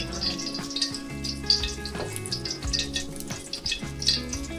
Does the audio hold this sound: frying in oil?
yes